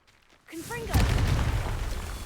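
A Confringo explosive spell is cast in Hogwarts Legacy, a sudden loud blast that bursts in and then rumbles on as a sustained, dense roar after a brief rising magical whoosh.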